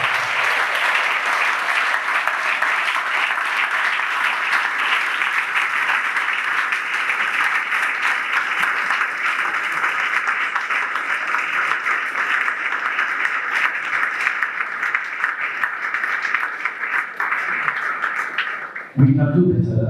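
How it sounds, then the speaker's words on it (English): An audience claps for nearly twenty seconds at a quiz event, a loud, even wash of applause that holds steady before stopping abruptly, with a voice briefly heard at the very end. "Adek Jamra, let's give them a round of applause as we thank them."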